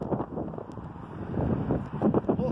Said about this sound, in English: it's getting really windy now